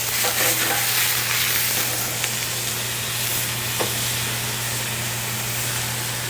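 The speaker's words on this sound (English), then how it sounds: "I'm going to just hit it with a little bit of white wine" White wine hits a hot pan beside simmering stock and sizzles into a continuous, dense hiss that stays loud and even throughout, with a low steady hum underneath and an occasional faint click.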